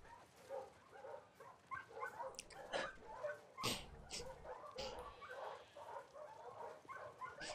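A dog in the video game The Last of Us Part II whimpers, yips and gives short barks in a run of small, close, excited sounds over quiet game ambience.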